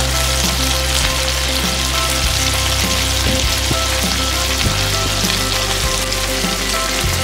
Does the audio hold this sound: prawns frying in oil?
yes